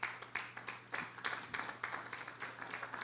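Congregation in a church clapping their hands in praise, a dense patter of many palms with rhythmic surges, fairly distant and steady over a low hum.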